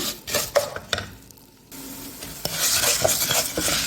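Grated tomato hits a hot pan with a sudden burst of loud sizzling after a brief near-quiet pause, while a spoon scrapes and stirs through it in short rough strokes.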